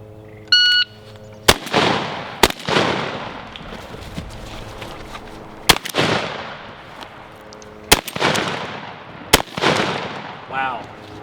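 A shotgun firing Winchester 3-inch 15-pellet double-aught buckshot outdoors: several loud, sharp blasts at irregular intervals, each trailing off in a rolling echo, with a short electronic beep just before the first shot.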